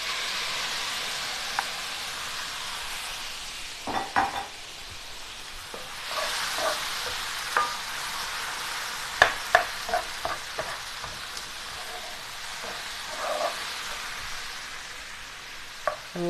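Tomatoes tipped into a hot pan for a Mediterranean stew and stirred, giving a continuous soft sizzle with scattered clicks and scrapes of the spoon against the pan, close and fairly quiet, with no voices.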